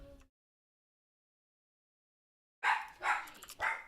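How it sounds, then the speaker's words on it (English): A dog barks several times in quick succession, loud and fairly close, after a long stretch of near silence, as if reacting to someone at the door. "Dog barking at someone at the door."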